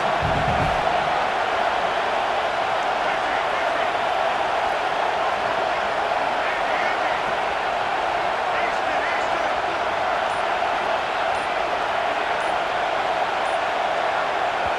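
Loud, steady roar of a packed college football stadium crowd at a Wisconsin vs Oklahoma game, sustained noise during an offensive snap that drew a false start, continuous and dense throughout with no distinct voices.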